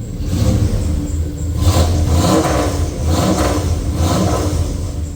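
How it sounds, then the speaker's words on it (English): A second-generation Ram pickup truck engine runs loud and close, revving in repeated surges with a rough, crackling exhaust rasp throughout. "I think I need to deal with the exhaust. It's real crackly."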